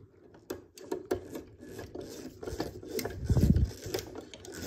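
A small screwdriver drives a screw into a plastic part of a KITT model kit from Knight Rider, giving close, quiet rasping and scraping turns with a denser grinding burst near the end.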